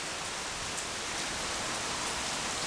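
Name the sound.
rain falling outdoors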